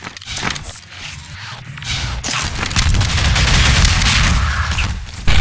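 Dense, overlapping weapon fire in a Half-Life 2 Deathmatch match, with bursts of shotgun blasts mixed into a chaotic stream of gunshots and impacts building louder toward the end, without any voices.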